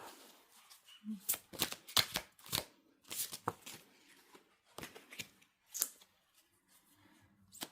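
Oracle cards being shuffled by hand in a quiet room, a run of crisp riffling bursts and soft flicks repeating irregularly, close and fairly loud, with faint background murmur.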